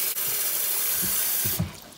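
Cut fruits and vegetables being rinsed under a running kitchen tap, a steady close rush of water into the sink with a few soft splashes and shifts as the produce is moved.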